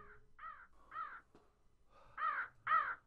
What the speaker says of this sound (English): A crow flew over my head